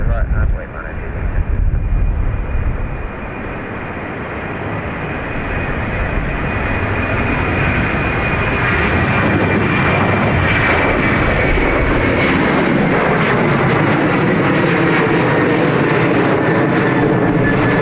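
A Boeing 787 Dreamliner jet roars loud and close at Dublin Airport, a broad steady engine rush that builds and holds throughout, with a thin whine above it and a voice talking briefly near the start.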